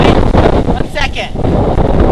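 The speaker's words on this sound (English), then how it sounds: "It is windy and it is very snowy today for late April." Heavy wind buffets the microphone in a steady low rumble outdoors at an animal sanctuary on a snowy late-April day, with faint voices mixed into the gusts.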